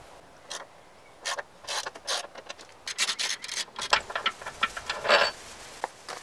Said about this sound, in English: Next step is to loosen this front motor mount.